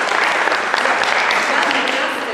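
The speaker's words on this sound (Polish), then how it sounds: "Brawa." Steady, dense applause from an audience at a Polish comedy show, loud and continuous throughout with no pauses, fading slightly toward the end.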